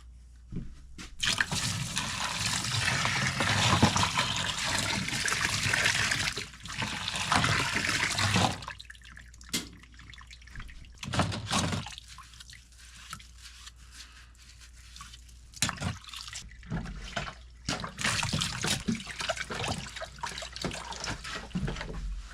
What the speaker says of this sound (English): I'm back to boiling water on the stove to do dishes.